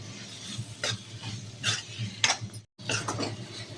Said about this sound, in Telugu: ఇప్పుడు మనం ఇందాక మ్యాగ్నేట్ చేసి పెట్టుకున్న ఈ పన్నీర్ పీసెస్ ఇందులో యాడ్ చేసేద్దాము. ఇప్పుడు ఇది కూడా మనకి కాసేపు ఫ్రై అవ్వాలి.